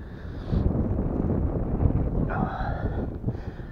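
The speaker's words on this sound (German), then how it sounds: "der Wind ist heute doch recht eisig" Icy wind buffets the microphone on a walk at the Aabach dam, a loud, continuous low rumble with gusty swells throughout.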